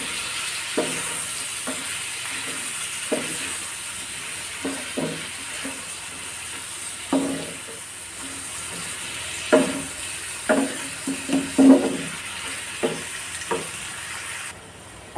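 Shrimp frying in a pan with roast spice mix give a soft, steady sizzle, with irregular scraping stirs and light clinks of a spoon spread across the stretch, fairly close and unaccompanied by talk.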